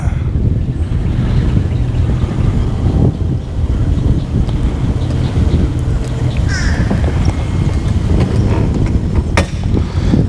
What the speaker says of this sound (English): Wind has actually managed to find its way directly up the slough